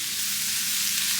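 Onions and mushrooms sizzle steadily in a hot wok, a constant close crackling fry with no talking.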